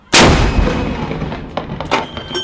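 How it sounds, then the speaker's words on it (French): A single cannon shot from an artillery salute in Monaco booms out loud with a sharp crack, followed by a long rolling echo and a few faint clanks. "Il est 14h15 lorsque 21 coups de canon retentissent à raison de 1 par minute."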